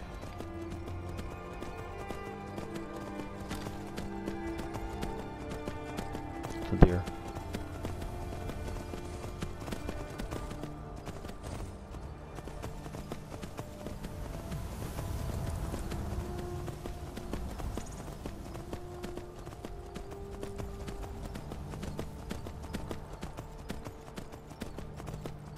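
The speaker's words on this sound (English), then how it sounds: "This horse is a better companion than Lydia" Horse hooves clip-clop steadily through a long stretch of Skyrim gameplay, running at an even pace over background game music, with one brief sharp knock partway through.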